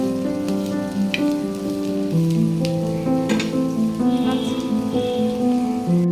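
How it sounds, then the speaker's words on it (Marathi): Onion and ginger roast in a pan for a mutton curry, crackling and sizzling steadily up close under a continuous music bed. "मस्त लालसर होसर भाजून घेऊया आपण कांदा"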